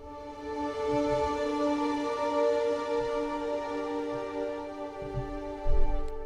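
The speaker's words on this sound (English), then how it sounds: "So next we have the 60 violins patch from Hans Zimmer Strings" Sustained, wide string sound from the 60 violins patch of the Hans Zimmer Strings sample library, a held, bright multi-note chord with soft low swells beneath, steady and alone throughout.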